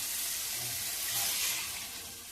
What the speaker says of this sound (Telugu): ఇప్పుడు నీళ్ళు పోసేసుకుంది